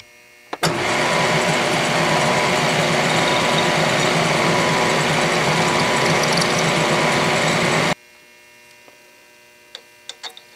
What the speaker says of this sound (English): Now I'm at the Atlas lathe with my little grooving tool here